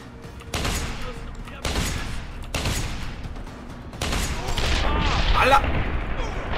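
Heavy shotgun blasts in Deus Ex: Human Revolution fire in a series of booming bursts, one every second or so, with voices talking over the gunfire.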